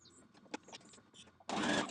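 A home sewing machine stitches a dress facing down along its seam allowance, a loud steady whirring burst in the final moments after quieter handling noises.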